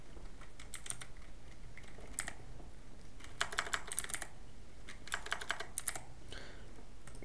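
A computer keyboard clicks under fast typing, with short runs of keystrokes broken by brief pauses. It sounds close but fairly soft over a steady background hiss, and no one speaks.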